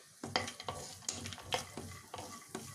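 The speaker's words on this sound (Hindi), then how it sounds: "अब इसमें मैं ये जो काजू लिए थे वो डाल दूंगी, चला दूंगी, इसको थोड़ा रोस्ट होने देंगे" Cashews stirred and roasted in a pan, a run of close scraping strokes and light rattles over a soft sizzle, roughly evenly spaced, with no one speaking.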